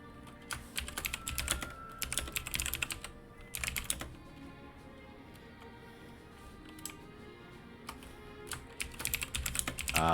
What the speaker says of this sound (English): The typing, and more typing.